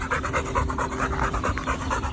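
Dogs pant rapidly and steadily after a workout, a close, loud, rhythmic breathing that runs without a break and then stops abruptly.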